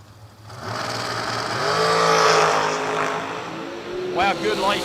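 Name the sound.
drag racing dragster engines at the racetrack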